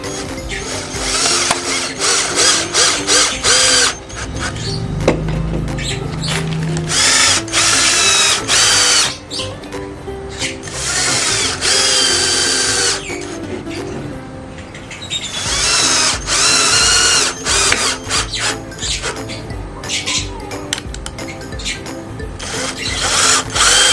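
A power drill bores screw holes into wood for a DIY camping cooler stand, roaring in several loud bursts separated by brief pauses, with no voices.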